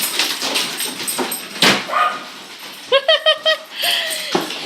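Dogs playing indoors during a card-making session, with scuffling, yips and short whimpering cries close by, including a rising whine near the end, mixed with handling noises.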